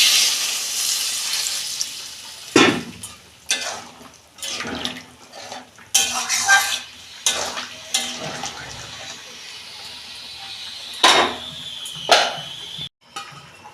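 Water poured into a pot of Bengali vegetable fish curry, a series of short splashing pours with gaps between them, close and fairly loud, with no talking.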